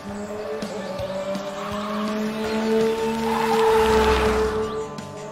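Cartoon race car driving in a big park, engine whine with rising tire squeals and skidding over several seconds, growing louder toward the end.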